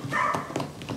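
A dog barks in the background indoors, a couple of short yelps within about a second, moderately loud and alone without speech.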